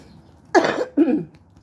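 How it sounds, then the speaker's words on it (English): Two short, harsh coughs in quick succession, close and fairly loud, with quiet in between and after. "So excuse me still coughing or whatever."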